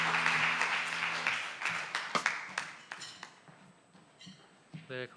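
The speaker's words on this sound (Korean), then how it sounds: "박수 주시면 감사하겠습니다." A church congregation at a Korean young adults' Sunday worship service claps in a fading burst of applause that thins to scattered claps, with light clinks and taps nearby.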